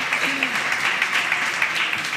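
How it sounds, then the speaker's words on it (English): Steady applause from a conference audience for a panel on a startup summit stage, dense continuous clapping at moderate level with a brief voice murmuring faintly underneath. "Now, a round of applause for our panel."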